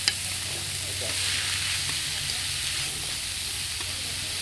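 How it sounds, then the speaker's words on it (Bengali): Leafy greens (shak) stir-fry in a pan with a steady, faint sizzle and occasional stirring scrapes, a soft continuous hiss throughout with no speech. "এই যে সাইদা আপা সুন্দর করে শাকটি ভাজা হয়ে গেল"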